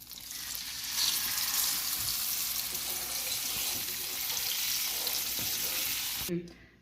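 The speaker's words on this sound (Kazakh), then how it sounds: "Помидордың суы тартылғанша табада осылай қайнатамыз." Tomato pizza sauce simmers and sizzles in a pan, a steady broadband frying hiss lasting several seconds before it cuts off abruptly near the end, with no talking.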